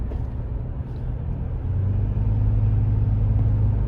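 Car engine and road rumble from driving in Texas traffic, a steady low drone that grows slightly louder and heavier partway through, with no talking.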